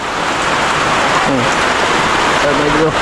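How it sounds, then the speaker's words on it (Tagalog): Steady, dense downpour hisses loudly and continuously, with brief voices faintly audible beneath the roar of the rain. "sobrang lakas ng ulan no?"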